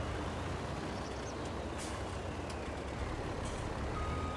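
A worker's truck reverses in Farming Simulator 22, with a steady stream of engine noise and hiss, faint repeated reversing beeps and an air-brake burst, and no speech.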